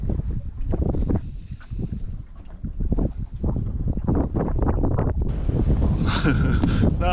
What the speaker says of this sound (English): Just this bloody wind now.